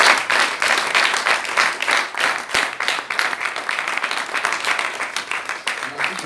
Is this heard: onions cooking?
no